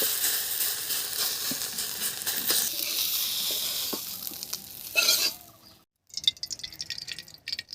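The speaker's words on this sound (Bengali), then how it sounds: "তেল গরম হয়ে গেছে জিরে ফোড়নে দিচ্ছি" Hot oil sizzles in a pan before cumin tempering for a crab curry, a steady hiss with small pops that swells, cuts out briefly, then returns as irregular crackles.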